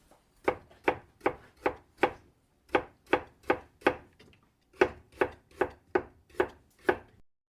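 A knife chops tomato on a board in crisp, evenly spaced strokes, about seventeen close cuts in three rhythmic runs separated by brief pauses, with no talking.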